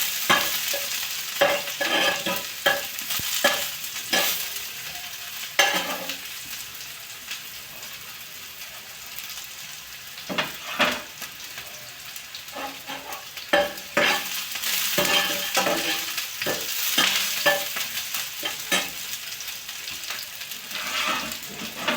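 Onion, green chili and cumin fry in a pan on raised heat with a soft, steady sizzle, punctuated by irregular clacks and scrapes from stirring that come in clusters, and no one speaks.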